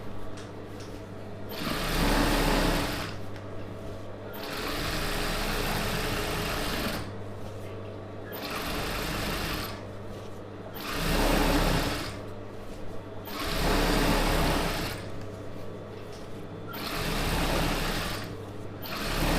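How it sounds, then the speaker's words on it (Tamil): A Usha sewing machine runs in repeated bursts, stitching a second seam over the pleats of Patiala pants, its steady whirring motor starting and stopping with short pauses between runs, close and clear with no talking. "அப்படியே அந்த தையல் மேலே இன்னொரு தையல் வச்சிடலாம்."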